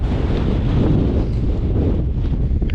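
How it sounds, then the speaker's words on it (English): Strong wind on a mountain summit, the Old Man of Coniston in the Lake District, buffets the microphone in loud, continuous rumbling gusts, roaring without pause and drowning out any other sound. "Super windy up here"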